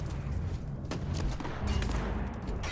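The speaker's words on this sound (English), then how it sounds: "Someone's using a launcher." A launcher fires during a firefight in the video game Starfield, heard as a dense burst of booming shots and gunfire that continues for the full stretch, with no voices.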